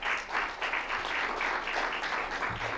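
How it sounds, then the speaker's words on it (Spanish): Audience applause welcoming a speaker at an architecture and education biennial, a soft, distant wash of clapping from a crowd, steady and even throughout. "le damos la más cordial de las bienvenidas con un fuerte aplauso"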